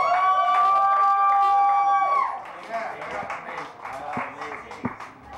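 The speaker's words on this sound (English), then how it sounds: "clap it up for the amazing Zach Glasbrenner" Pub audience clapping and cheering for a comic coming to the stage, a crowd roar that swells after a loud sustained tone, then settles into scattered claps and voices.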